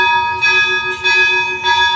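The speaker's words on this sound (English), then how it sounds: "They are really loud bells here in this church." Loud church bells ring out in a town, steady sustained peals with rich overlapping tones that swell and restrike roughly every half second, heard up close with no talking.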